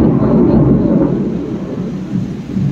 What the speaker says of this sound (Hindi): बहुत जोर से ये बारिश हो रहा है।